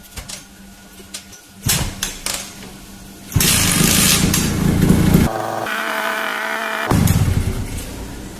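A two-stroke engine with a leaking carburetor and hard starting shows sputtering bursts at first. It then catches into a loud, raspy, high-revving run that shifts in pitch before surging again near the end.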